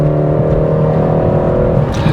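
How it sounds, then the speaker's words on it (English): A BMW 330i driven in sport mode on twisty roads gives a loud, close engine drone with a steady pitch and rich harmonics, holding without a break and with no voices over it. "This car sounds fantastic."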